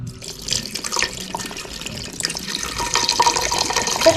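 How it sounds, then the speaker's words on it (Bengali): Water runs from a kitchen tap into a cooking pot for a homemade Thai soup, a loud close gush that builds as the pot fills, with no talk over it. "এবার পানি দিয়ে দিই।"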